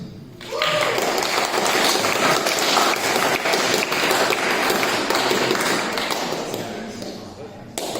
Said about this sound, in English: Please welcome with a hearty applause, Cal Garrett.